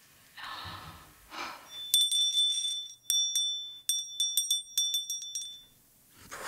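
A small gift bell rings with bright, high metallic tings, first a sustained chime and then a quick series of light jingles, close and clear after a couple of soft breaths.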